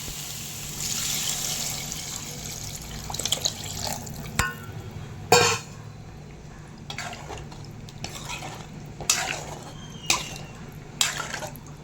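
Tamarind water poured and stirred into sautéed masala for Kerala ulli theeyal, with wet stirring and scraping in a pan, several louder clinks of utensil against pan, and a steady low sizzle underneath, close and alone.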